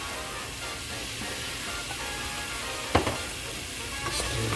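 Gumbo simmering in a pot after a pinch of salt and pepper, a steady close sizzle with a sharp scrape or clank of the spoon partway through and soft stirring knocks near the end.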